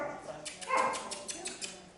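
Dog sounds during a dog training lesson, short soft yips and whimpery barks repeated in a quick uneven series, fairly close amid a busy background.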